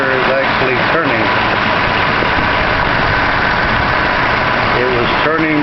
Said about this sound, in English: AC compressor is low, but the compressor is actually turning.